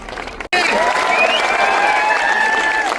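An audience at a public gathering applauds a speaker, with dense steady clapping mixed with crowd cheering that bursts in loudly after a brief silence and holds for the rest of the moment.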